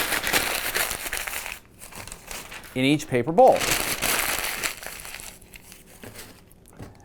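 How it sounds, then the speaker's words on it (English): Newspaper is crumpled by hand into a ball, giving crackling, papery bursts in short clusters while a person talks over and between them. "You're going to take a newspaper, crumple it up into a ball,"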